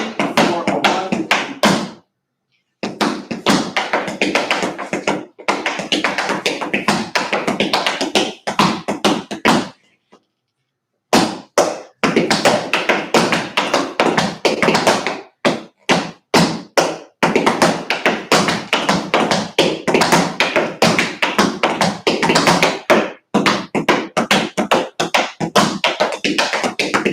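Rapid tap dance steps ring out in crisp, dense bursts of taps and heel thumps, loud and close, broken by a few brief pauses between phrases, with no talking.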